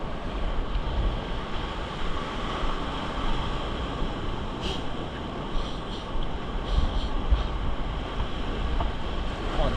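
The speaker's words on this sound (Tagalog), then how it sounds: "Hindi ako makasisid eh, medyo malakas ang alon." Strong ocean waves rolling and surging along a shore, a constant heavy roar of surf with wind buffeting the microphone, loud and continuous with no talk.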